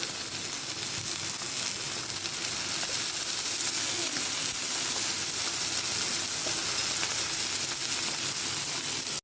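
Swordfish pieces fry in shallow oil, a steady, even sizzle held close and moderately loud throughout, with no talk.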